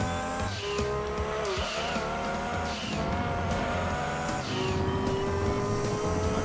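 In the Gran Turismo 2 racing game, a Toyota Celica GT-Four's engine howls steadily while its tires squeal in long skids through a corner, with several sharp screeching bursts rising over the engine drone.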